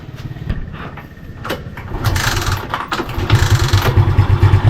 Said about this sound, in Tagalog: So ngayon testing natin kung andar yung motor natin mga lods.